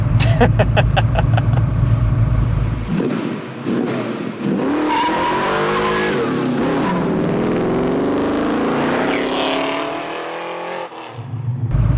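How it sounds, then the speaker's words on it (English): A 1969 Ford Mustang Fastback restomod with a 347 stroker V8 and five-speed stick shift pulls away hard on a private road, its engine rising through loud revs with a gear change midway and tire noise, close and dominant. "see how it is to get out of the hole with this car with a stick shift"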